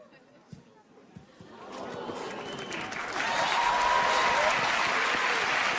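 An audience applauds after a card trick, the clapping starting faint and sparse, then swelling into loud sustained applause.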